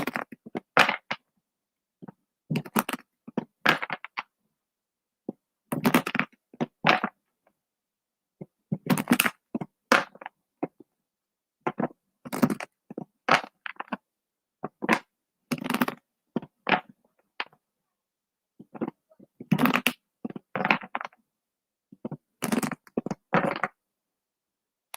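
Tarot cards being shuffled by hand during a live reading, soft papery riffles and taps coming in short bursts with brief pauses between them, fairly close and quiet.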